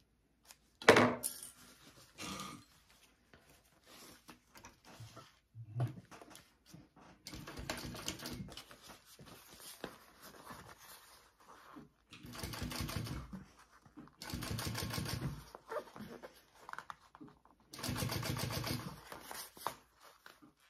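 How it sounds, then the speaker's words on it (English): A home sewing machine top stitching fabric runs in several bursts of steady mechanical whirring, separated by quieter pauses and a few small clicks and handling noises close by. "Okay, so I'm going to top stitch first"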